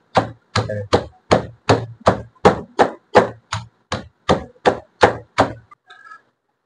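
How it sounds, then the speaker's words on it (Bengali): Chili peppers are being ground by hand for a beef curry, making about fourteen steady, evenly spaced rough strokes that sound close and clear before a short pause at the end. "এই যে দিলাম মরিচ বাটতেছি"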